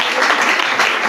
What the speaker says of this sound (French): Est-ce que tu peux applaudir à l'honneur de notre Dieu?